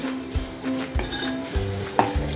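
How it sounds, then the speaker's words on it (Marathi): Sugar syrup is stirred in a pot for semolina ladoos, with a few distinct close metallic clinks and knocks of the spoon against the pot. "आणि आपण ढवळून घेऊ."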